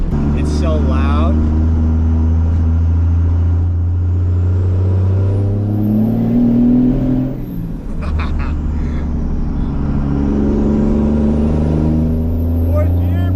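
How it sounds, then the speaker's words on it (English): A turbo diesel vehicle engine drones loud and close, its pitch rising and falling as it accelerates through the gears, with a brief dip partway through. A person talks over it throughout. "That turbo sounds so good. It's so loud."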